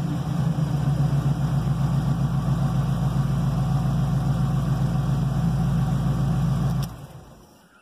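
Steady engine idle at about 750 RPM during a cold start, with the throttle set wide open; a loud, even low rumble holds for nearly seven seconds, then cuts off and fades to quiet.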